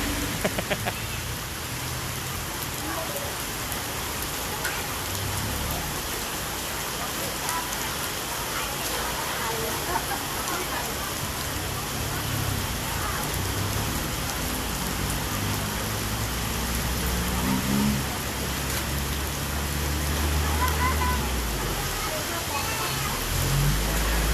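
Heavy rain falls steadily and continuously, a dense, even hiss that keeps up throughout with a low rumble beneath it.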